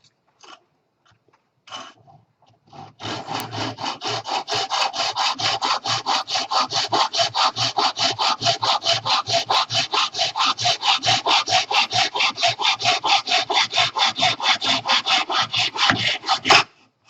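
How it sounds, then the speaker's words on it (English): Rapid, rhythmic rasping strokes of a saw cutting through a wooden pen blank held in a miter saw jig, loud and close, running evenly for about fourteen seconds after a couple of brief knocks. "I have my blank in here and my miter saw jig, and then I'm just going to go ahead and cut that again."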